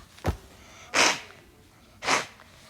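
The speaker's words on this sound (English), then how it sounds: "I need to blow my nose." A person blows their nose three times, a short sharp snort followed by two longer, breathy honking blows, close and clear with pauses between.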